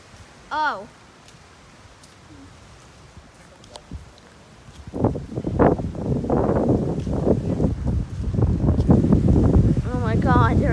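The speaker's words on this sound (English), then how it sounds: "it's so windy and there's so much lightning" Strong wind gusts from a storm with lightning buffet the microphone in a steady, rising roar, with a brief sharp sound early on and a voice speaking near the end.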